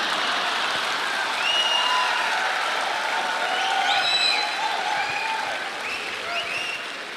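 An audience at an Amway motivational talk claps steadily throughout, a full, even wash of applause with a few faint whistles rising over it before it eases slightly toward the end.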